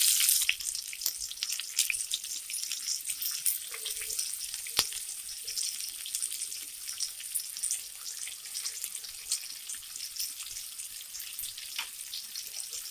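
Green chillies and onions sizzle in hot oil for an Andhra country-chicken curry, a steady close crackling hiss with faint scattered pops and no talking.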